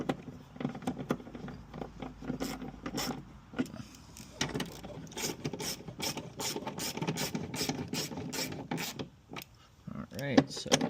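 Bolts are tightened on the third brake light of a Nissan Stagea, with a run of sharp ratchet clicks and clacks up close, in uneven bursts across the whole stretch. Light handling noise comes between the bursts.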